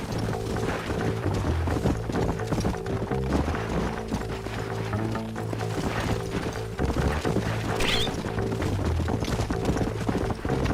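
Horses' hooves clip-clop steadily in Red Dead Redemption, mixed with game music and ambient effects, the hoofbeats moderately loud and continuous throughout.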